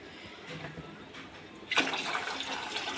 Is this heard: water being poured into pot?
yes